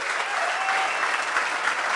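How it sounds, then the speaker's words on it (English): An audience claps steadily in a room for a short stretch, a dense, even patter of applause with no voices over it. "Let's give him a round of applause."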